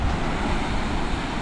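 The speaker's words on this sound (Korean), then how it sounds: "여기 파도가 전체적으로 되게 강한 것 같아" Strong ocean waves surging against the rocky cliffs at Devil's Tear on Nusa Lembongan, a steady close roar of surf and wash with wind noise, no talking.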